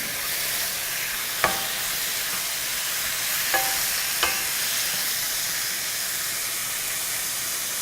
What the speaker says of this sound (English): I'm going to sear these until they're cooked all the way